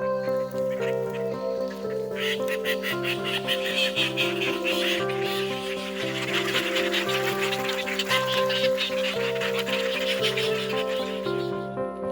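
Kuttanad ducks on a duck farm in Malappuram, Kerala, quack in a dense, continuous chorus of overlapping nasal calls lasting about twelve seconds.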